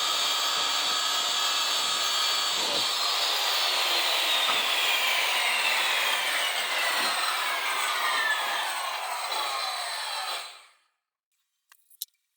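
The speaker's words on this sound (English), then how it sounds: "using it to guide my circular saw across the 1/2 inch plywood that I used" Circular saw ripping through 1/2 inch plywood along a homemade guide, a loud close continuous whining cut lasting about ten seconds, then stopping abruptly into silence followed by a couple of small clicks.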